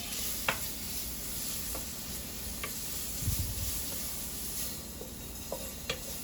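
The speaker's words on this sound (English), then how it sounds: "She's getting her bacon cooked. yes, we're just putting it in there, just kind of saute it." Bacon sizzles steadily in a hot pan, a constant close hiss with occasional small pops and soft stirring knocks.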